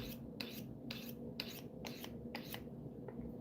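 Knife blade being honed to remove the burr, a series of about eight quiet, evenly spaced rasping strokes, each a short scrape close to the microphone over a faint background hum.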